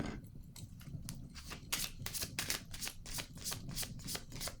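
Tarot cards are shuffled and handled close up, with a quick run of crisp riffling snaps and soft slides that quicken into a rapid, rhythmic flutter. The sound is quiet and intimate, with no talking.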